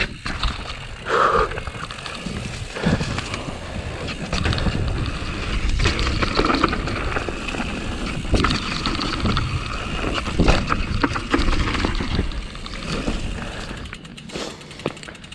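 A hardtail mountain bike clatters and rattles continuously over rough trail terrain, with constant jolting chatter and wind buffeting throughout.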